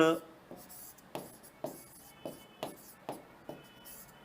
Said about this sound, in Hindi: और इसको मैंने ऐसे लिख दिया, मोहन